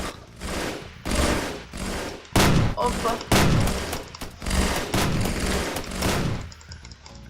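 Rapid bursts of video game gunfire rattle in repeated volleys, loud and close, during a police counter-terrorist shooting game, with a brief spoken exclamation among the shots.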